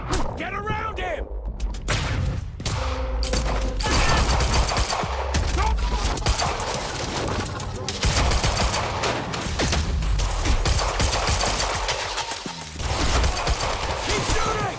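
Sustained, dense gunfire in the video game Quantum Break, with rapid bursts and mechanical clatter running throughout under shouted voices and combat noise.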